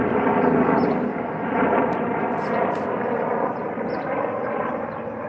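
A helicopter passes overhead outdoors, a steady, loud broadband rotor and engine roar that holds for several seconds and eases slightly as it moves off, with no talk.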